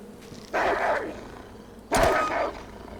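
A wolf snarls and growls while attacking in H1Z1 Just Survive, two loud, close, aggressive bursts separated by a brief pause.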